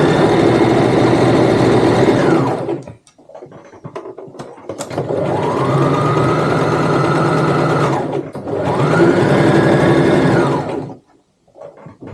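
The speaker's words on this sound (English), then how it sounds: "I would sew with your pocket on the right side up" Sewing machine stitching a pocket onto a tote bag runs in three bursts, a rapid mechanical whirring hum that winds up, holds and slows, separated by brief pauses.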